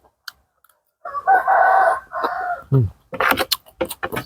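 A rooster crows once nearby, a loud drawn-out call, followed by a few short clucks and rustling noises.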